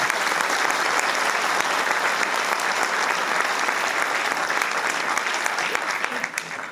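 Applause sound effect played for a green-space award in Brétignolles-sur-Mer, a dense, steady crowd clapping that holds strong throughout and tapers slightly at the end.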